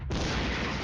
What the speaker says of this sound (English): We are still bombarding those mortars over there